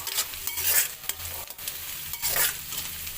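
Homemade street-style noodles with chilli, salt and soy sauce sizzle and fry in a pan, stirred with steady scraping strokes, close and fairly loud, with no talking.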